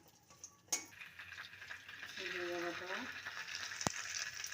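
Pumpkin pieces frying in a pan make a quiet, soft sizzle, with a sharp utensil clink early on, a brief tonal hum midway and a rising hiss toward the end.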